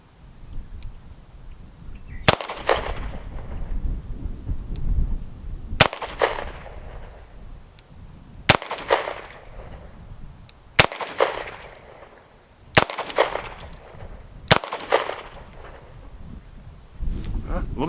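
Six sharp gunshots from a Smith & Wesson 432 Ultimate Carry revolver firing .32 Smith & Wesson Long wadcutters at a range, spaced two to three seconds apart, each loud and close with a brief ringing decay over steady background noise.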